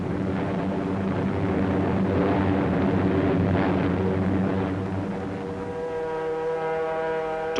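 B-29 Superfortress bombers flying on a raid over Rangoon, a heavy droning roar of propeller engines that is steady and loud, with a pulsing tonal hum toward the end.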